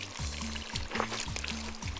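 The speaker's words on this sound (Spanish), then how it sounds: "laven bien el pollo o cualquier cosa que vayan a comer" Water pouring outdoors while chicken is washed, a continuous close trickle and splash, with a rhythmic low hum running underneath.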